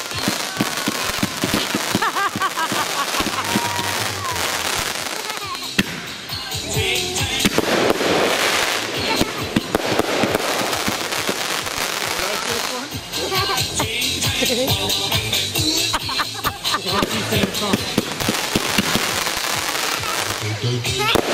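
Fireworks burst and crackle continuously at a cottage display in 2014, with loud dense pops and rolling booms throughout while people talk and a song plays in the background.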